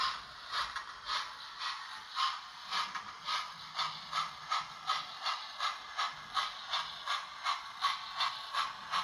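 A model railway locomotive hauls six coaches up an incline, giving a steady, even rhythmic clatter of wheels over rail joints that is moderately faint and close.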